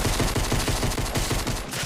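Fast automatic fire from an AK rifle in Fortnite, a dense, loud, evenly spaced string of close shots that carries on without pause.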